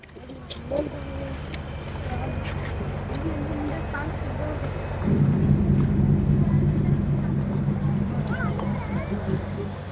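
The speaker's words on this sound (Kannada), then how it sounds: "ಸುಮಾರು ಬೋಟ್ಗಳು ಫಿಶಿಂಗಿಗೆ ಹೋಗ್ತಾ ಇದ್ದಾರೆ." A low motor drone from fishing boats off Malpe beach, Udupi, rises and grows louder midway, steady and fairly close, with faint background sounds around it.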